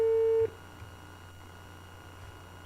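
Telephone busy tone on a Thai radio call-in program's phone line, a steady tone heard briefly at the start before cutting off, leaving faint line hiss and low hum.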